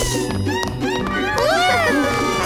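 Cartoon characters in an Indonesian-dubbed animated show imitate cat meows, several overlapping rising and falling mews over a busy background of other sound.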